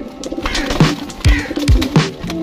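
Khal pigeons coo close by, giving several low, throaty calls in a loose rhythm, with a few faint chirps in the background.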